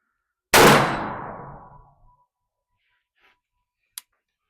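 A single loud 5.56 rifle shot rings out against a steel plate at a penetration test, with a sharp crack and a long fading ring, then a faint click and a brief metallic tick.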